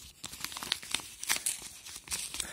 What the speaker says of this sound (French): Et on va ouvrir l'enveloppe.